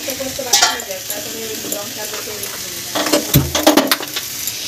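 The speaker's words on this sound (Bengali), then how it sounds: "এদিকে আমাদের হচ্ছে এখানে পাট শাক ভাজা" Jute leaves with green chillies fry and sizzle in a pan, a steady hiss broken by scraping and stirring strokes that grow busier near the end.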